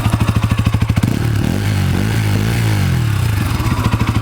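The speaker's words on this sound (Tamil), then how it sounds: "அடுத்து வந்து எக்ஸாஸ்ட் சவுண்ட் எப்படி இருக்குன்னு பார்ப்போம்." A Bajaj NS200 BS6 motorcycle engine revs up from a steady, throbbing idle, holds a loud rising roar through the exhaust, then drops back to a pulsing idle. Close and loud, no talking.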